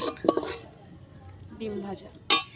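Metal utensils clink against a pot while chow mein is cooked outdoors at a winter village picnic, a few sharp scrapes and taps spaced apart with quiet gaps between.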